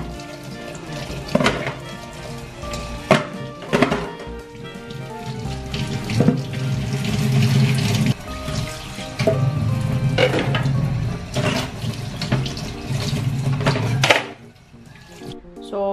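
A kitchen tap runs steadily as a chopping board is washed in the sink, a continuous close rush of water broken by several sharp knocks and clatters of the board against the basin, then the flow stops.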